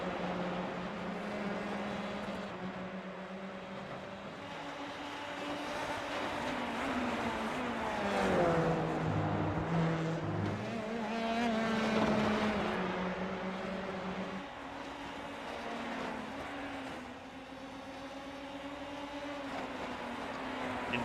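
Formula 3 race cars in a racing video game at the English Grand Prix, with engines droning at high revs and pitch rising and falling through gear changes as cars run close together.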